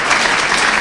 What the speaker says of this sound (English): we need to give another round of applause to Dr. Rhee